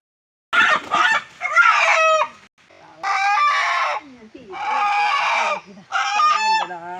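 Country chickens cluck and squawk loudly while being caught, in four close, agitated bursts separated by brief pauses.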